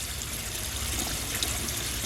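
Water running into an IBC aquaponic grow bed filled with pebbles and clay balls, a steady broadband trickling and gushing wash that holds even throughout, with no talking.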